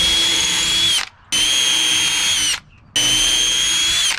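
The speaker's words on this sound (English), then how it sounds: "Now we're going to want to pre-drill the holes for our hinge." A power drill pre-drills holes for a wooden fence gate hinge in three loud, close bursts of steady high whine, each about a second long, separated by brief pauses.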